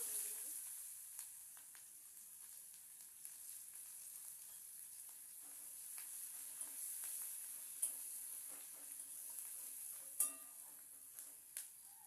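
Onions frying in a pan for a Bengali katla fish kalia curry: a faint, steady sizzle with scattered soft ticks and clicks, no voices.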